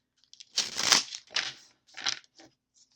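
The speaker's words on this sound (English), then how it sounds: "I love this deck. I like shuffling." A deck of tarot cards shuffled by hand in several quick, crisp bursts of papery riffling, close and fairly loud, separated by short silences.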